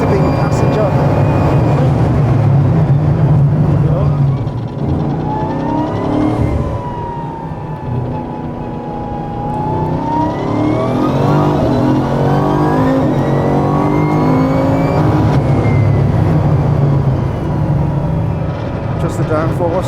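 A 1,600-horsepower Bugatti being driven, its engine swelling and falling as the revs climb through the gears, loud and close, with people talking inside the cabin over the roar.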